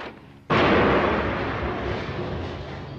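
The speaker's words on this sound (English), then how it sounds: "The terrorists panic, open fire and throw a hand grenade." A hand grenade explodes during an airport gunfight between terrorists and police: one sudden, loud, close blast that stays as a thick roaring rumble and fades only slightly over the next few seconds.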